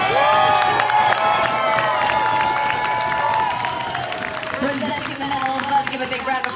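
A crowd cheers and claps at a sports prize presentation for an enduro race, with shouts and whoops over scattered applause while an announcer speaks through a loudspeaker.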